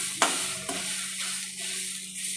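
Sliced papaya fries in a pan, a steady bright sizzle broken by a couple of sharp scraping clicks from a spatula stirring it.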